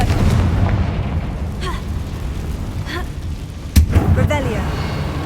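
Confringo blasting spells go off in Hogwarts Legacy combat, low rumbling booms with one sharp explosive crack near the middle, over steady game background, with a voice casting spells throughout.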